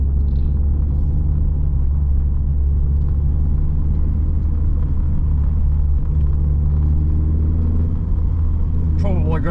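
A Mk3 Vauxhall Cavalier driving in a video game, its engine a steady low rumble at cruising speed, loud and continuous, with a brief rising whine near the end.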